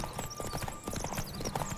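Horse hooves clip-clopping at a gallop in The Witcher 3, a steady rapid beat of hoofbeats under busy game ambience, close and continuous throughout.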